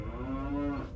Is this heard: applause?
no